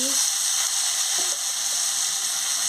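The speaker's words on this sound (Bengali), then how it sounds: "দেখুন বন্ধুরা, মশলার সঙ্গে ফুলকপি আর আলুটা কষিয়ে নিচ্ছি।" Cauliflower and potato sauté with spices in a pan, giving a dense, continuous hiss of frying oil at close range, with a faint stir or scrape partway through.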